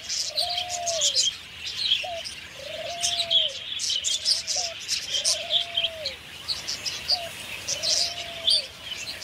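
Cockatoos and other parrots call in a wild setting, a series of repeated curved, whistling cries at moderate distance over a busy background chorus of chirping birds.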